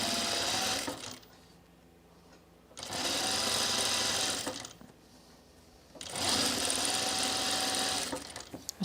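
Sewing machine stitching an Azores dress from Itch to Stitch Designs runs in three loud, steady bursts of whirring, each separated by a brief quiet pause.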